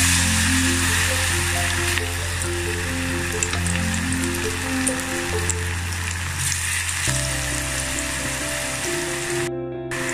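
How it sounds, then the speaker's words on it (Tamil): Snake gourd finger chips deep-frying in hot oil on a low flame, a loud, continuous close-up bubbling sizzle that runs unbroken throughout. "சிம்மில் வச்சே வறுத்துக்கோங்க."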